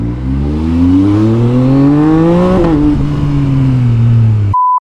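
A road vehicle's engine revs loud and close, its pitch climbing as it accelerates past and then dropping away. A short electronic beep sounds just before the clip cuts to silence.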